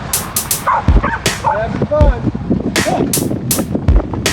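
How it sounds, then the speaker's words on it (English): Dogs in a yard beside the road bark several times during a group bike ride, heard through gusty wind rumble and road noise. "There's these dogs on the right there."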